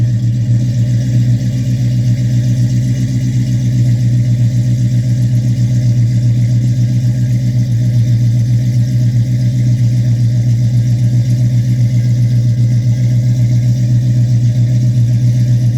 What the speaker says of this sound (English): she sounds fucking nasty, huh? I love this car.